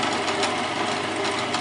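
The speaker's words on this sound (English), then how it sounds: "We'll drill one hole there" A drill bores a hole through a metal air cannon barrel clamp at a center-punched mark, giving a steady, close, continuous whirring drone with no talk.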